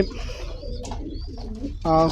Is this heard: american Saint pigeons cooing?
yes